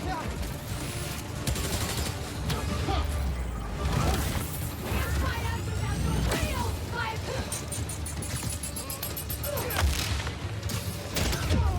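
Rapid sniper and gunfire bursts ring out during a rooftop fight in Spider-Man: Miles Morales, dense and continuous over a busy game soundscape with crashes and effects, while a voice talks over it.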